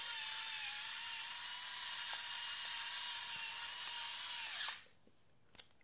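A Cuisinart SG-3 rechargeable electric spice mill grinds pepper with a steady, close motor whine for several seconds, then cuts off, leaving a couple of small clicks and taps.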